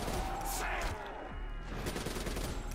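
Gunfire in the zombie Nightmares mode of Call of Duty Black Ops 3, a quick burst of loud close shots with sharp cracks packed into under three seconds.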